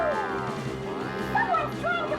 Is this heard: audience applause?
no